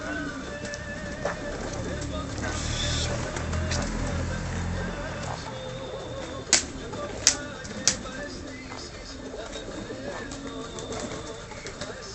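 Pigeons in a loft in Sparti, Greece, cooing softly amid shuffling and a few sharp knocks or wing claps, with someone talking over them.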